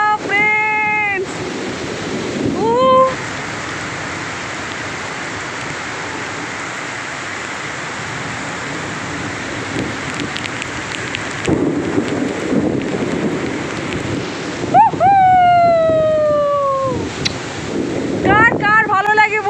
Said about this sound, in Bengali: আওয়াজ দেখেছেন? বৃষ্টিতে ভেজা ফ্রেন্ডস।